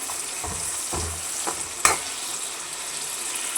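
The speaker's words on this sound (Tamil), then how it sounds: "இப்போ சின்ன வெங்காயம் போட்டுக்கலாம். போட்டுட்டு கொஞ்ச நேரம் நல்லா வதக்கி" Small onions frying in a pan for garlic vatha kuzhambu, a constant low sizzle broken by a few distinct scraping stir strokes and one sharp clink of the spoon, close and fairly quiet.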